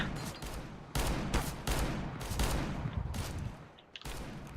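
Pistol fire in Counter-Strike: Global Offensive deathmatch, loud rapid bursts of gunshots in quick succession with brief gaps between volleys.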